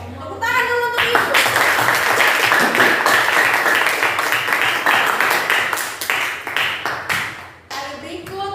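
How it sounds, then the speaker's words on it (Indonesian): A class of students claps for their teacher in a classroom, with steady, loud, close applause lasting several seconds and brief voices at the start and end. "Tepuk tangan dulu untuk Ibu."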